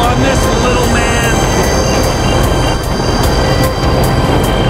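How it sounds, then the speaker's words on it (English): A train in the video game GTA 5 roars loudly and continuously with a dense rumble, rhythmic rail clatter and faint high metallic ringing, filling the scene with no pauses. "Cerchiamo di salire sul treno, cosa che in realtà dovremmo fare in questa missione."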